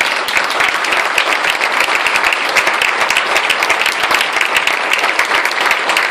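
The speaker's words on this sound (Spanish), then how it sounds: "un fuerte aplauso" Loud, sustained applause from a festival audience at the opening proclamation of a neighbourhood fiesta in Barrial, Gáldar, steady dense clapping throughout with no talk.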